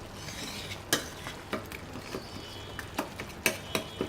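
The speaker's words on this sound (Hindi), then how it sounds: "थोड़ा सा इसको मैं मिक्स करूँगी" Chickpea curry masala gets stirred in a frying pan, a faint sizzle underneath punctuated by several sharp spoon clacks and scrapes against the metal at irregular intervals.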